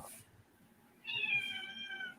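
A house cat lets out a single drawn-out meow, fairly close and moderately loud, after a brief quiet moment indoors.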